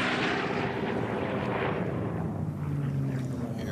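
Sea Fury racing plane at the Reno Unlimited air races passing by: a steady, loud broadband engine roar with wind rush that swells and slowly shifts in pitch as it goes past.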